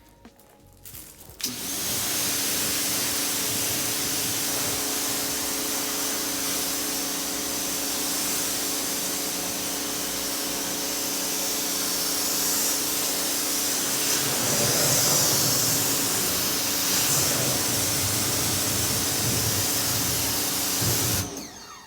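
A home cleaning machine sprays water to rinse a car, starting abruptly after a moment and holding a loud, continuous rushing spray hiss until it cuts off near the end.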